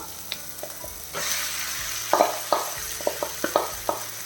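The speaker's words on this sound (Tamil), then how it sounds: "இதோடு நாம் மேரினேட் பண்ணி வச்சுக்கக்கூடிய சிக்கனை சேர்த்துடலாம்" Marinated chicken frying in tomato masala for a chicken curry, a steady close sizzle under a run of spoon scrapes and knocks against the pan as it is stirred.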